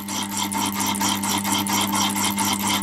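A gem cutting machine spins steadily while a block presses softly on the stone, making a continuous mechanical whine with a steady hum and a fast, even pulsing rhythm. It is close and fairly loud, and no one speaks.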